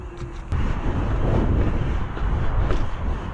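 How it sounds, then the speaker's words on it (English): Strong side wind buffeting a rider's microphone, a loud, steady low roar that swells and holds for several seconds with no talk over it. "Oh, so much side wind."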